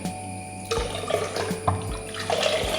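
Water being poured into neer dosa batter in a home kitchen, a steady splashing pour that starts abruptly and runs continuously at close range, with no talk.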